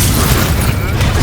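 Loud, dense explosion from the Confringo fire spell in the video game Hogwarts Legacy, a sustained booming burst with crackling debris filling the whole moment.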